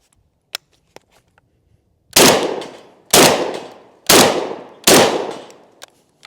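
Four loud, evenly spaced shotgun blasts from an IWI Tavor TS-12 firing high-brass shells at a steel plate rack, each boom ringing out with a decaying tail, preceded by faint clicks and handling noises.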